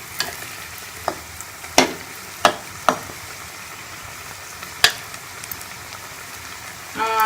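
Kheema rolls frying in hot oil, a steady soft sizzle with sharp pops and crackles scattered throughout, growing a little louder toward the end.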